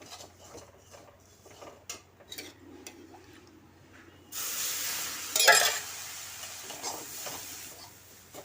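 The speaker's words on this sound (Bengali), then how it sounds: "এখন আমি অল্প অল্প করে দুধ দেব আর নাড়া দেব।" Milk poured a little at a time into sweet pulao in a pan, quiet scraping stirs giving way to a louder sizzling hiss as the milk hits, with a sharp metallic clink midway.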